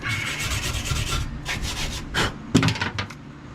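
A wire brush scrubs the door hinge of a 1982 Ram Charger with rough back-and-forth strokes. The strokes are loud and close, with a few quicker scrapes toward the end.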